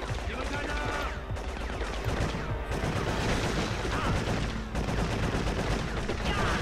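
Dense gunfire in the video game Cold Winter, loud rapid shots and bursts nearly continuous throughout, with someone talking in German over the shooting.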